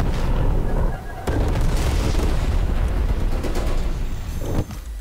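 Dense, continuous explosions and booming blasts in Call of Duty Cold War, loud and rolling with overlapping bursts and rumble throughout, briefly dipping before a sharp new blast and settling again near the end.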